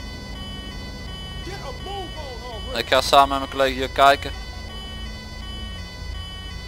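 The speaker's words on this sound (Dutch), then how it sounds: "Het gevolg daarvan is dat de chauffeur automatische sirenes aanlaat." A steady ambulance siren from the GTA 5 video game runs throughout, sustained and fairly loud, while someone speaks over it in the middle.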